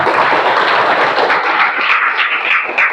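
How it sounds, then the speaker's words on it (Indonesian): Students in an Indonesian classroom clap together in a dense, even wash of applause that holds steady for a few seconds, fairly loud and close, with no talking. "tepuk tangan untuk Yulan."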